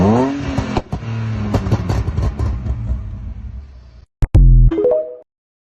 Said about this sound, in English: powerful growl that this exhaust gives